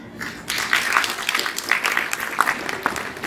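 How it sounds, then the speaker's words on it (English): An audience applauds a talk by Mr. John Burton, creator of The Walking Dead, at the Thorpe Park eXpo, a steady wash of many hands clapping close by that swells after a brief start and holds through the end. "if you can all give a massive round of applause for Mr. John Burton"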